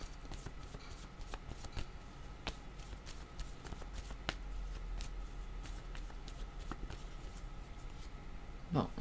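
A deck of tarot-style cards being shuffled to draw another card, a soft, steady riffling with scattered light flicks, close and quiet throughout, with no talking.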